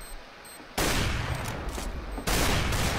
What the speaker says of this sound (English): That's a deagle.